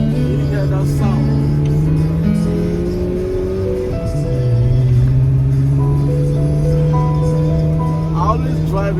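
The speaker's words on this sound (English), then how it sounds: "This is why you buy this car, the sound. You hear that sound." A Ferrari sports car engine rumbles steadily and loudly, its pitch rising midway as it revs, with someone talking over it throughout.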